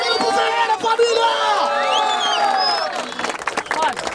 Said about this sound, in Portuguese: Uma salva de palmas e muito barulho pro Ferreira!